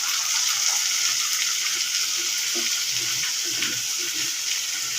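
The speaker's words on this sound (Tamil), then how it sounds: "அதில் போட்டு நல்லா வதக்கி விட்டுக்கணும்" Drumstick flowers sautéing with cooked onions in a pan, a steady loud hiss of sizzling throughout with faint scraping stirs underneath, no voices.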